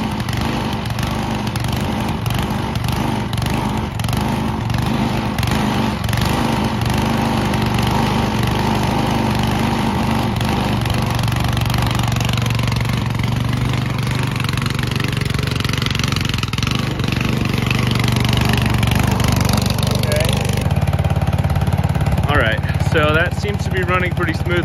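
Small engine idling along at low throttle after being fueled, a steady close-up putter with some rough patches, running continuously under intermittent talk.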